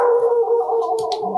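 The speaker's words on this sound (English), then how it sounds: "Sorry about the dogs barking." Dogs howling in a sustained, loud chorus that dominates the whole moment, with a few short yips breaking through near the end.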